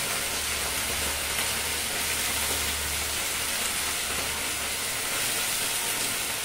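Red amaranth greens frying in a pan in a home kitchen give off a loud, continuous hiss of steam and sizzle, steady throughout with a low hum beneath and no talking.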